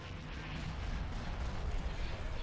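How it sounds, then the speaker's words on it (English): Capital ships in Star Wars: Empire at War firing on a shield generator, a dense continuous barrage of rumbling booms and blasts that stays fairly loud throughout. "Directing all fire on the shield generator."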